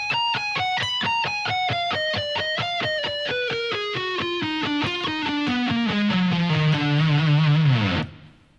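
Distorted electric guitar plays a solo at a slow tempo, a descending run of evenly picked notes stepping down in pitch, loud and sustained, ending in a held bent note that cuts off abruptly.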